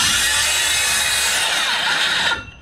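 A power saw runs loud and close as it rips wooden blocking lengthwise along a stud during house framing, a continuous whining cut that fades as the blade finishes and slows.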